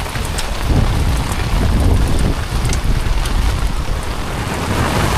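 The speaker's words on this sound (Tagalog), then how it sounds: "Ito, malakas ang ulan." Heavy rain pours down at night while fishing for matamba or buraw, a loud, steady broadband roar with wind buffeting the microphone and possible low rumbles of thunder, no voices.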